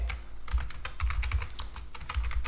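Close, fast typing on a computer keyboard while entering Python code, with steady irregular key clicks and a low background hum, no talk.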